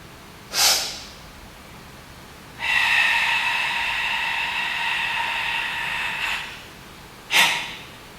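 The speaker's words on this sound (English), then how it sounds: "Hold your breath and exhale slowly." A slow, controlled breath exhaled after a held breath during a karate breathing drill: a short sharp sniff, then a long even airy hiss lasting several seconds, close to the microphone, followed by another quick sniff.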